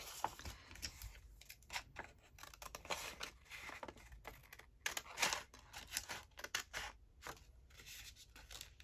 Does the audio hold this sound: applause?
no